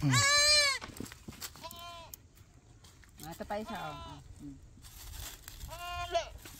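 Goats bleat several times in short wavering cries, close and loud at first, then softer, with people talking in between, just after a goat has given birth.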